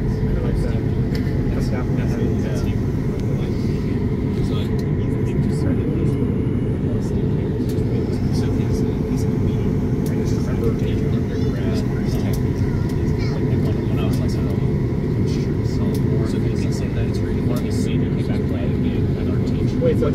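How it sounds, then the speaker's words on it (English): Steady loud aircraft engine roar heard from inside a plane on the runway, a continuous low rumble and whine with other planes coming in, lasting throughout without clear speech. "Got planes coming in."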